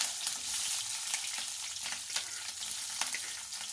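Green chillies frying in hot oil with mustard seeds in a village kitchen, a soft, steady crackling sizzle with occasional light pops and stirring scrapes, fairly quiet and without voices.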